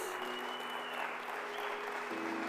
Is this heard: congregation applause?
yes